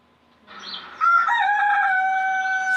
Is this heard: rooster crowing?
yes